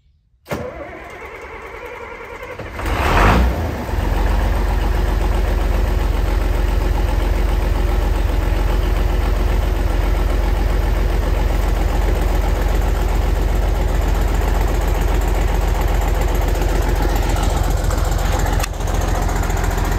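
A tractor engine cranks and catches after a few seconds, then settles into a steady, loud, even idle that runs uninterrupted to the end.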